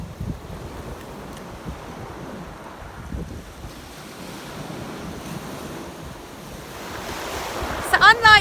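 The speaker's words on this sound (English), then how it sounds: "today we have high tide again and a slightly more lively sea with the waves coming" Sea waves at high tide rolling in and breaking on a beach under steady wind, a continuous wash of surf that swells louder near the end.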